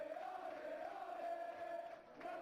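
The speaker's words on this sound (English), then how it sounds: "Crowd appreciates good football all round there" Stadium crowd in the PES 2021 football game gives a steady, faint appreciative cheer, a continuous low murmuring roar with no commentary over it.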